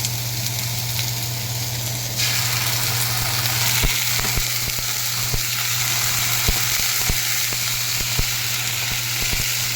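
Onion, garlic and ginger paste sizzles steadily in hot oil, with occasional soft clicks of stirring over a constant crackling hiss.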